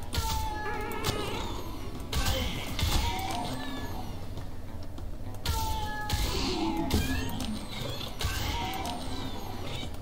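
Several short cat meows from the video game Postal: Brain Damaged sound over mechanical game noise and clatter, coming in a few separate bursts.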